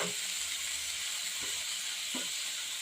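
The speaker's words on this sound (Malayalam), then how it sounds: "ഇതിലേക്ക് അല്പം ഉപ്പൂടി ഇട്ടിട്ട് നമുക്കൊന്ന് വഴറ്റിയെടുക്കാം." Vegetables sauté with salt in a pan for pasta, giving a soft continuous sizzle with a few light stirring knocks, moderately close and fairly quiet, with no voices.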